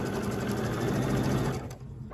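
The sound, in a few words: sewing machine stitching quilt pieces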